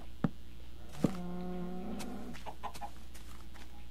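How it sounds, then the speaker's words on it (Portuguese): A Minecraft chicken clucks in a short burst of a few tonal clucks amid faint clicks, fairly quiet and alone. "Beleza, a galinha já tá presa ali, ó."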